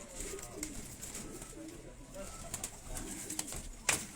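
Pigeons, including a Chapra-breed bird kept by a Quetta fancier, coo in low, throaty murmurs that repeat throughout, close by, with soft voices and rustling in the background.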